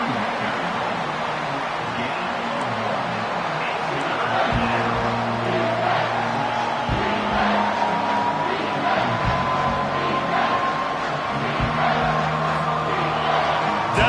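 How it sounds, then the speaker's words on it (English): Steady crowd roar from an American football video game grows louder across a third-down play, a broad wash of stadium noise with a faint rising tone and low rumbling underneath. "Decibels rising as the crowd gets behind this defense on 3rd down"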